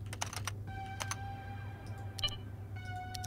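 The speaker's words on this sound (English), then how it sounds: "Sometimes it's just typing names into a database and getting nothing out of it." Keystrokes from typing names into a database in the detective video game Shadows of Doubt, a quick run of close, crisp key clicks in short bursts over a steady low hum.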